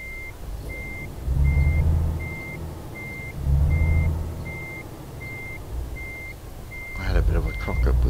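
A truck reverses in Euro Truck Simulator 2 while a steady series of evenly spaced reversing beeps repeats over a low diesel engine rumble that swells and fades.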